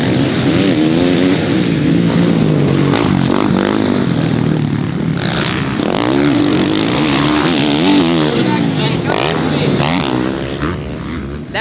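A dirt bike drops into a rutted corner and rips back out, its engine loud and close, pitch rising and falling as the rider rolls off and back on the throttle throughout.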